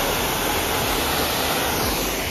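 Waterfall at Amaakunda Saiba Tirtha in Balimela, a constant, loud hiss and roar of falling water, close and unbroken, with no voices.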